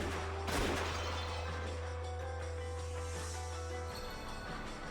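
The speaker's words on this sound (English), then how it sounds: "The two yells and the sound of gunfire thundered across the dark rose garden." A single sharp gunshot blast from the Umineko When They Cry visual novel, set in a dark rose garden, bursts briefly over a steady low droning background.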